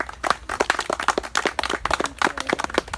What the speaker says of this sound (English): I'd like to extend a round of applause to all of you all to making it here.